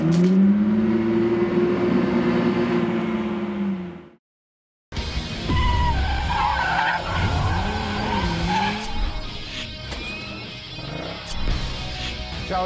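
A car drifting on a track produces long, loud tyre squeals and skids with engine revving, a brief silent gap, then more screeching and engine roar close by.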